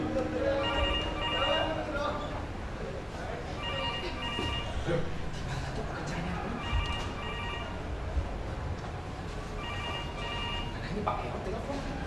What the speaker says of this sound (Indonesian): Ini Pak Ero telepon.